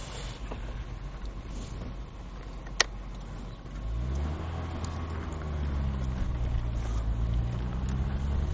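A 1985 Citroën BX Break 16 RS starting to drive out of a workshop: a low engine idle, one sharp click, then the engine note rises and holds as the car pulls away.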